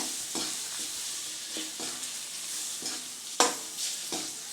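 Green chillies, onion and tomato sauté in hot oil for a village-style fish curry, a continuous close sizzle broken by several scraping stirs of a spoon against the pan, one of them noticeably louder.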